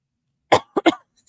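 A short burst of coughing: one sharp cough followed by a quick pair, then another starting at the end, loud and close against silence.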